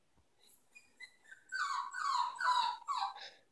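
A dog whines up close, starting with a few short soft whimpers, then rising into longer, louder high-pitched wavering cries that follow one after another.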